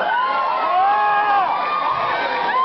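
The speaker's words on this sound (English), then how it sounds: "there are people in the audience shouting beer names." A concert audience at a show shouts in a dense, continuous roar of overlapping voices and whoops, loud and steady throughout with no single voice standing out.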